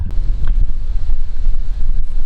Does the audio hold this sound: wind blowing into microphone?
yes